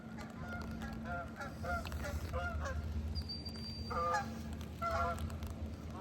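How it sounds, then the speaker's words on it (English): Geese honking in a flock, repeated honks in bursts over steady background noise and a low hum, fairly close and clear with no talk. "Oh, there go the geese."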